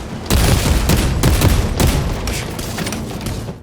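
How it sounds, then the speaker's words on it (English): Dense, rapid gunfire from the Warhammer 40k shooter game rattles close and loud in continuous overlapping bursts, thinning slightly toward the end. "dodging back and forth behind walls, shooting your enemies, taking cover"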